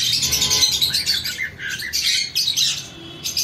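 Cockatiels and other birds call in a pet shop, a close, busy mix of squawks and chirps with no talk over them.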